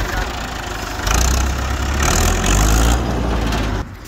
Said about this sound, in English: The tractor's coming.